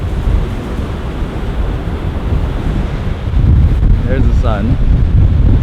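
Strong wind roars across the microphone on a rocky Hawaiian coastline, with a steady rush of surf from crashing ocean waves beneath it; a person speaks briefly over the loud, continuous blast.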